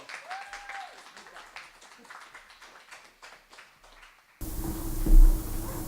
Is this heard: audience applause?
yes